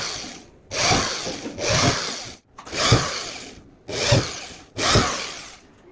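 Electric drill with a 6.6 mm bit boring a series of holes through a circular piece while building a homemade room heater, five loud separate bursts of roughly one second each, split by short pauses, with no speech.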